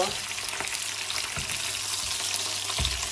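Bananas for Pisang Lapu-Lapu frying in a pan give a steady, loud hiss and sizzle, with a few dull knocks from a utensil against the pan.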